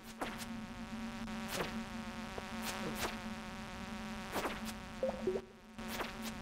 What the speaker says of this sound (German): Kommen ganz viele Fliegen, Hilfe!